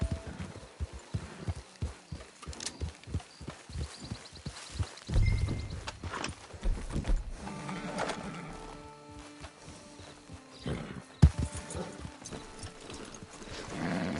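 Repeated horse hoof clip-clops in Red Dead Redemption 2 trot along steadily amid a busy, layered game soundscape, with a brief whinny-like burst partway through.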